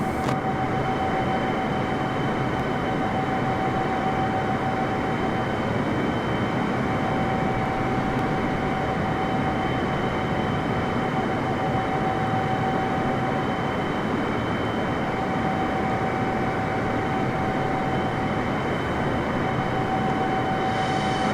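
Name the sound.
Boeing 747 airliner engines in Microsoft Flight Simulator video game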